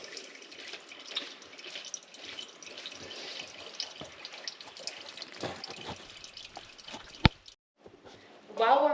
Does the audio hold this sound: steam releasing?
no